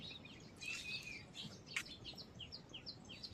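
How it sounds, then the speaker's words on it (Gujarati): Sparrows chirp on a quiet morning: a steady run of short, high tweets and trills from several birds, some close and bright, others softer, over faint background hiss. "અત્યારમાં ચકલા ચીંચી કરે છે"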